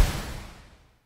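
An unprocessed trailer whoosh hit strikes sharply and then fades quickly over about a second, with a brighter, thinner tail. There is no talk.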